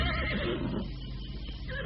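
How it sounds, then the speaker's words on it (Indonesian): White horse whinnying: a loud, close neigh that rises and then trails off into breathy snorting over about two seconds, with no talk. "Pasti hanya binatang lumrah, kuda biasa, seperti kuda-kuda yang lain."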